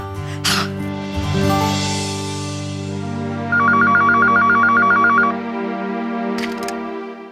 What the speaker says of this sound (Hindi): लैंडलाइन पे फोन लगाती हूँ।